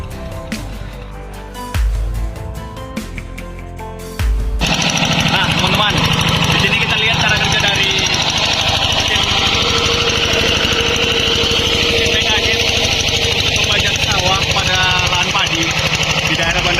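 A Quick Y1000 diesel hand tractor tills rice paddy soil, its loud, continuous engine chugging and rattling in close after a few seconds of rough, broken mechanical knocks.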